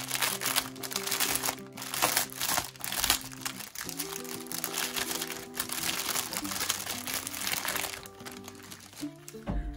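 Small plastic baggies holding diamond painting colour drills being unwrapped by hand: continuous loud crinkling and crunching of thin plastic, with uneven bursts of rustling over about ten seconds and no talk.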